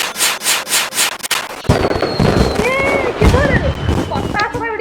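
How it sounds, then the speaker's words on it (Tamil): Fireworks burst in a Roblox store game: a rapid series of pops opens, followed by a dense crackling, fizzing barrage with whistling streaks, loud and continuous. "பட்டாசுலாம் வெடிக்குது பாரியா ஸ்டோர்ல"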